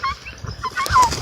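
Farm turkeys gobble close by among mixed poultry, a short rapid warbling gobble rising over scattered rustling and low background noise.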